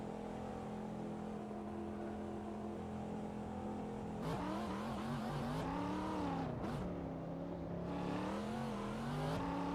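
Racing cars in a video game lap the Road Atlanta track, their engines whining and revving in layered, shifting pitches as several cars pass close by, with steady loud engine noise throughout.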